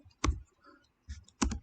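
A computer keyboard typed on while entering Python code, two short clusters of crisp, close keystrokes separated by a pause.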